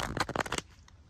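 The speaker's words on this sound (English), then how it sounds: "Let's shuffle your deck and see who you're thinking of" A deck of tarot cards is riffled in a quick, close burst of papery flutters lasting about half a second, then goes quiet.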